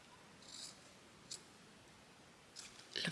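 Scissors cutting recycled packaging for a no-sew journal, giving a few brief, faint snips and crunches spaced over a quiet room.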